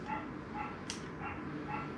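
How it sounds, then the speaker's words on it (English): A pet dog barks somewhere in the background of a home where a Road King speedometer and analog tach are being installed, its yips steady and muffled. "You can hear our dog barking in the background."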